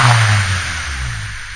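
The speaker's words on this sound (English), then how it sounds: "give it a low rev and then turn it off because I don't want it to smoke up the garage." A 1998 Honda Civic DX engine with a newly fitted full exhaust gives a short low rev, a deep rumble that swells briefly and then settles to a steady idle drone, close and fairly loud.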